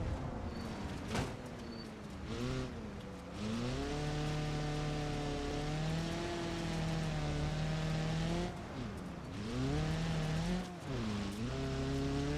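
Rally car in a holiday rallycross video game at an industrial track, engine revving and rising in pitch, then wobbling and dropping as it spins out, with steady loud engine drone throughout and no talk.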